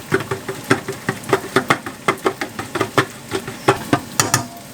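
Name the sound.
whisking a mixture in a bowl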